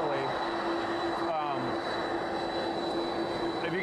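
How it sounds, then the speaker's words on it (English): Air Force One jet aircraft taxiing at an airfield, a loud steady engine roar with a high whine, while a person talks over it. "Air Force One is here taxiing"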